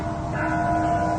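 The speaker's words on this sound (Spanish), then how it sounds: "entre el plañido de campanas distantes" Church bells toll in the distance, a soft sustained ringing hum held low under a dim, muffled background.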